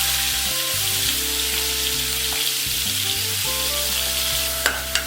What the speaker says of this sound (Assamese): এতিয়া আমি চপ কৰি থোৱা পিঁয়াজ আৰু নহৰুখিনি ইয়াত দি দিওঁ।